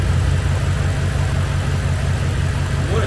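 A 1200HP BMW X6M V8 idling at its first start-up after an engine build, a steady loud low rumble that holds even and unbroken throughout, close and alone.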